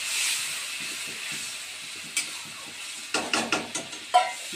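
Water splashed into a hot cooking pan of softened, dried-out mango gives a soft steady hiss of sizzling, followed by a few light clinks and scrapes of utensils near the end.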